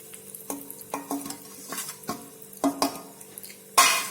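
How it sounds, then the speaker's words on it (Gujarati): A spoon scrapes and stirs sabudana powder roasting in hot ghee in a pan, close-up irregular scraping strokes and soft clinks over a faint sizzle, with one sharper knock near the end. "ત્રણથી ચાર મિનિટ માટે આપણે આ પાવડરને ઘીની સાથે મિક્સ કરી અને થોડ શેકી લઈશું"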